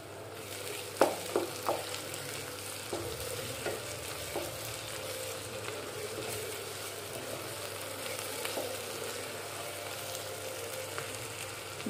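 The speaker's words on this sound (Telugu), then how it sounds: "ఇది బాగా పచ్చివాసన పోయే వరకు వేయించుకోవాలి" Ginger, garlic and cumin paste frying in a pan, a soft continuous sizzle with a few sharp scraping stirs early on, fairly quiet and close, no voices.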